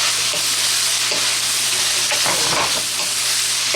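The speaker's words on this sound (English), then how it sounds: "At this moment, we're going to go ahead and add our broccoli" Shrimp frying in a hot pan as broccoli goes in: a loud, steady, dense sizzle and hiss throughout, with a few soft stirring scrapes rising out of the crackle.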